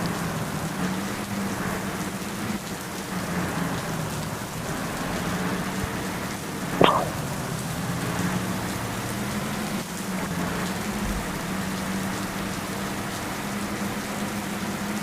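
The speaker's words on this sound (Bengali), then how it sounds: "গাইজ বৃষ্টি কিন্তু আবারও শুরু হলো।" Heavy rain drums steadily on a bus while it drives along, a constant dense hiss over a low engine drone, broken once by a brief sharp knock.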